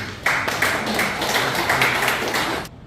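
An audience at a special lecture on restoring a seowon in Jincheon claps for the association chairman in a fairly close, rhythmic burst of applause. It holds evenly for a few seconds, then cuts off abruptly.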